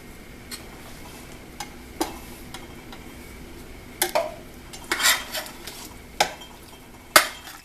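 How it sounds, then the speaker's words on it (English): Glass canning jars clink and jangle inside a pot while pear jam is made, giving scattered sharp knocks and rattles with a busier cluster in the latter half, close and fairly clear over a soft kitchen background. "I can hear the jars jangling around."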